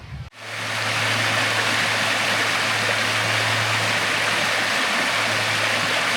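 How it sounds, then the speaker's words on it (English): Waterfall at Hillsborough River State Park, newly formed after a storm, a loud steady broadband rush of falling water heard close up, beginning abruptly and continuing unbroken to the end. "Look at this waterfall here."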